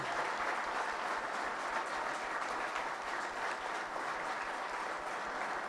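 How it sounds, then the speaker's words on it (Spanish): Sustained audience applause after a talk, a dense steady patter of many hands clapping at even loudness throughout, with no voices standing out. "Le pedimos un fuerte aplauso, por favor, para Juan Carlos Schmitt."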